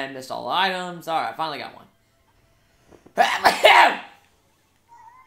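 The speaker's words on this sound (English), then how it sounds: "That was a sneeze that I've been waiting for." A single sharp sneeze bursts out between bits of casual talk during a Mario Kart 8 Deluxe session with friends, after a short pause.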